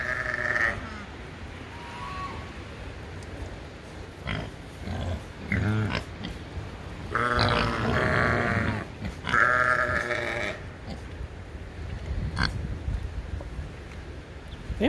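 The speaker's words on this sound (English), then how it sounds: "Sheep." Sheep bleat on a farm that also keeps pigs, ducks and geese: several loud, wavering cries come in bursts from close by, with quieter grunting and rustling between them.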